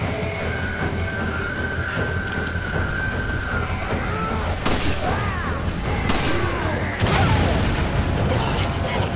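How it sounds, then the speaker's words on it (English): Grenade blasts in the video game Resident Evil 5 go off as several loud, broad bursts in quick succession, rising over a dense, continuous wash of game noise. "equip the grenades and throw them in the direction of the executioner, trying not to get burned by fire"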